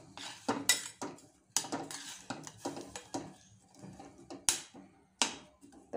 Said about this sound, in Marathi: कंटिन्यू फिरवत राहून छान याचा पाक तयार करून घ्या